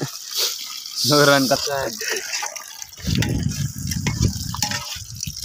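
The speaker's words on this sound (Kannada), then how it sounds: "ಲೆಕ್ಕನವ್ರು ನೀರು ಹಾಕ್ತಿದ್ರೆ ನೋಡಿ, ನೀರು ಹಾಕೋ ಸ್ಟೈಲ್ ನೋಡಿ." Water splashes and gushes in two bursts, a close pour with a loud rushing fill, while voices talk over the start, outdoors at the KRS dam backwaters.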